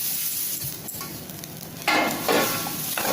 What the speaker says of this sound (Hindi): और अब इसको हमें अच्छी तरह से मिलाना है। तो अच्छी तरह से हम मिक्स कर लेंगे।